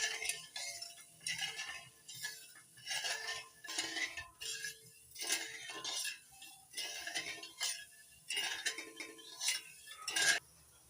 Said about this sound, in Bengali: নেড়ে চেড়ে চিনি গলিয়ে রসটা ফুটিয়ে নেব।